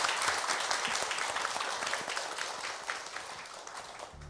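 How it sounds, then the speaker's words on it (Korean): A studio audience at a televised aerospace and regional-cooperation debate gives a warm round of applause for three panel guests, a dense, steady clapping that holds for about four seconds. "오늘 참석해주신 세 분께 큰 박수 부탁드립니다"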